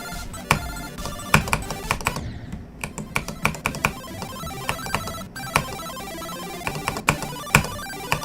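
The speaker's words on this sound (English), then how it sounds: "I love Nokia ringtone." Nokia ringtone melody built into the level music of a rhythm video game, bright plucked notes in a quick repeating pattern over a steady beat, with no one talking.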